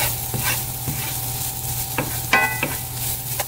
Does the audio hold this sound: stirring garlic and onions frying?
yes